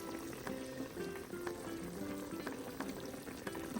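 Mutton pieces boil in a pot of water for a cauliflower curry, giving a steady, soft bubbling and popping that carries on evenly throughout with no talk.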